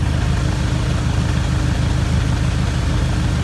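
An aircraft engine with Plasma 3 dual electronic ignition idles at about 800 rpm before warming up, giving a steady, even, close drone with a low rhythmic pulse and no talk over it.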